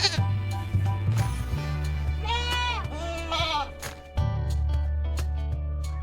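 Goat bleating, with a couple of wavering, nasal bleats close up over a steady low hum of farmyard background.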